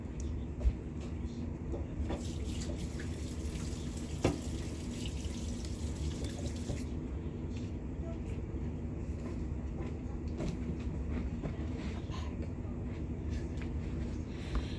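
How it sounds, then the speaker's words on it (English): Tap water running steadily into a kitchen sink while hands are washed after cracking eggs for cookie dough, a continuous close rushing hiss with occasional small splashes and knocks throughout. "now I need to wash my hands for just a second because I got egg stuff on there"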